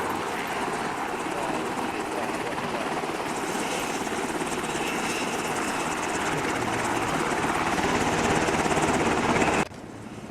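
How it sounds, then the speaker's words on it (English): Helicopter idling or running in a tactical team video game, its steady rotor and engine roar filling the whole stretch loud and close, then dropping abruptly in level right at the end. "Alpha 1, get on board the chopper."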